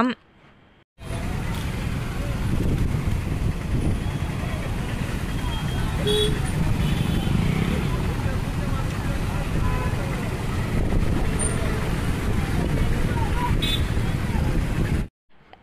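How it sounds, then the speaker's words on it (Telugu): A road traffic jam rumbles with the steady drone of car engines and wind noise, broken by a few brief distant horn toots. "ట్రాఫిక్ జామ్ అయితే ఫుల్ ఉందన్నమాట"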